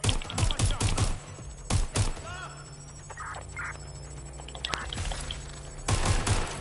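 Bursts of incoming gunfire in a video game, sharp shots clustered at the start and again near the end with quieter game sounds between, under brief talk.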